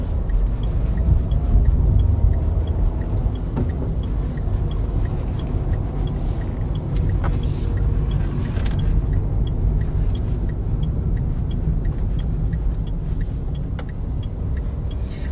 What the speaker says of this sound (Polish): Po naciśnięciu sprzęgła silnik samoczynnie się włączy.